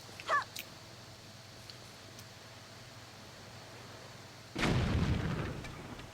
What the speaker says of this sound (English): Wait, let me bomb this.